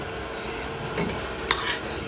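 Fried potatoes, browned red, are lifted out of a pan of hot oil: a couple of quick metal scrapes and clinks over a soft continuous sizzle, brief and close, with no voices.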